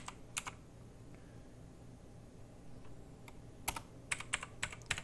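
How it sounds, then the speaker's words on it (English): Fingers tap on a computer keyboard in sparse clusters of sharp clicks, with a quiet stretch in the middle and a denser burst of keystrokes near the end over faint background hum. "Excuse my typing."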